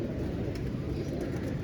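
Pigeons cooing softly in a rooftop loft where racing pigeons are kept, a low continuous murmur of calls with faint background noise.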